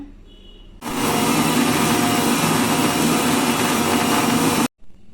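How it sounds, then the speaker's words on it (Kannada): A kitchen mixer grinder whirs loudly as it grinds roasted spices with coriander powder, starting abruptly after a quiet moment, running as a steady dense motor roar for about four seconds, then cutting off sharply. "ಇದನ್ನು ಗ್ರೈಂಡ್ ಮಾಡ್ಕೊಂಡು ಬರೋಣ."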